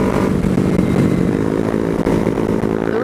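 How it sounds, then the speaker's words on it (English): Motorcycle engine revving hard and steady while the rider pulls a wheelie, a loud, close, continuous droning roar with a slight dip in the middle and no talk over it. "Brayden is the wheelie god, but Seth is the actual wheelie god."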